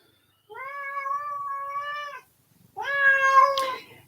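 A house cat meows twice during a quiet indoor meditation, two long, clear, close calls separated by a short pause, the second louder and rougher, with no talking.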